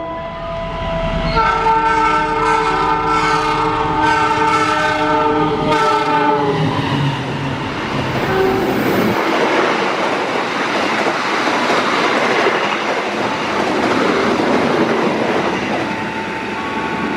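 A passenger train passes close by, opening with a long, loud multi-tone horn blast, then a steady roar of wheels and carriages rumbling along the rails.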